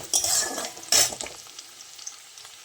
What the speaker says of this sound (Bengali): রসুনগুলো অ্যাড করি। পেঁয়াজটা আমি একটু পরে দিই, রসুনটা একটু ভাজা হোক, পেঁয়াজটা একটু পরে দিব।